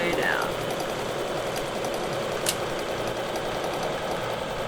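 A sewing machine runs steadily as a quilting stitch is sewn down a line marked with a ruler, a continuous even mechanical whir at moderate level with no talking.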